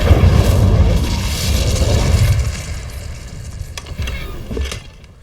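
Incendio fire spell in Hogwarts Legacy going off as a heavy, rumbling blast that swells and fades over a few seconds, followed by smaller pops.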